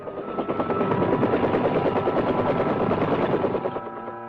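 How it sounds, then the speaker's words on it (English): Army dust-off medevac helicopters in Vietnam, 1967, produce a loud, steady rotor drone with rhythmic chopping pulses that swells and holds before easing slightly at the end. "Army aviators get in with their dust-off helicopters"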